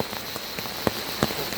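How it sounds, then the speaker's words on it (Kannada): Heavy rain falling at a cardamom plantation in Munnar, a dense steady patter on surfaces with a few sharper drop hits standing out in a short burst. "ಮಳೆಯೋ ಮಳೆ"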